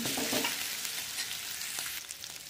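Onion paste with ginger and garlic paste frying in white oil for egg biryani, a dense near sizzle under a few quick stirring scrapes, with no talking.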